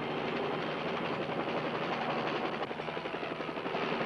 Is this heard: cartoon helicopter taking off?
yes